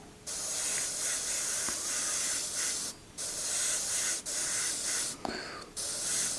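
An airbrush sprays paint during a step-by-step Joker artwork, a steady close hiss running in long bursts broken by brief pauses as the trigger releases.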